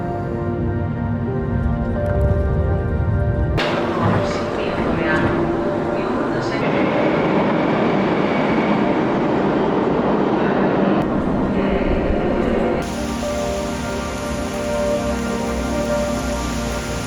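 A metro train ride in Greece brings a continuous rumbling roar of the carriage in motion, its tone shifting abruptly a couple of times, with people talking over it.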